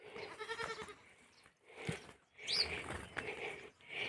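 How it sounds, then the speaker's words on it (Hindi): Young goat kids bleat in a village animal shed in Uttarakhand, several close, loud cries in short bursts with brief pauses between them, and a faint high chirp also heard. "ये देखिए यहाँ पर बकरी के छोटे छोटे बच्चे हैं।"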